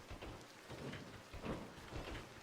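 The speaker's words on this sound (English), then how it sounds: "Rain should do the job for the rest of them." Steady rain falling in the survival crafting game Scrap Mechanic, a dense continuous hiss of drops with soft low rumbles swelling through it, no voices.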